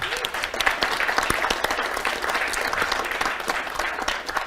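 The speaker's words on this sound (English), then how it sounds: "we want to give Simon a round of applause" A panel-discussion audience applauding a colleague named Simon, with dense, steady clapping from a crowd that holds an even level throughout without any talking.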